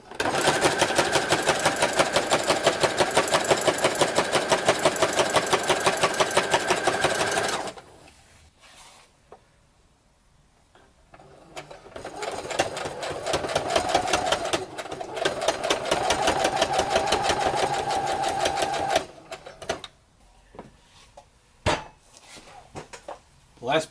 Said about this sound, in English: I'm going to do a zigzag stitch on all four of these edges